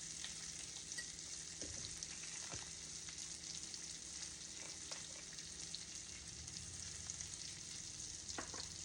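Whole onions cooking in butter for smothered pork chops, a steady dense sizzle with occasional faint pops and stirring clicks, quiet and continuous with no speech.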